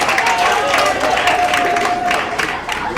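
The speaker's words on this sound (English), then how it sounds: "round of applause" An audience at a school's international language and arts day gives a brief, steady round of applause, a full wash of many hands clapping together.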